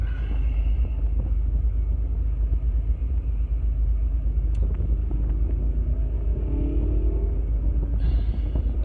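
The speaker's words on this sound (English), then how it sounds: "And that sound would go by as I'm getting ready to talk about this. It was a Z06." A Corvette Z06 goes by as a deep, steady rumble that holds for several seconds, with a faint rising growl near the end and no voices.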